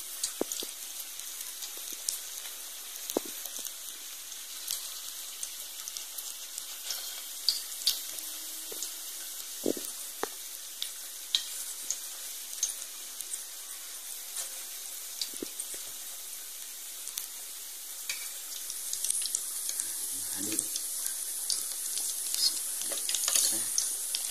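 Steady crackling sizzle of batagor fish dumplings shaped like meatballs frying in hot oil, continuous throughout, with a few clinks and a brief splash of water near the end.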